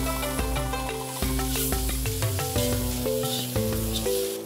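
Ginger, onion and garlic sautéing in a pan give a steady sizzle beneath prominent melodic background music that carries through the whole stretch.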